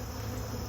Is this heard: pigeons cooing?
no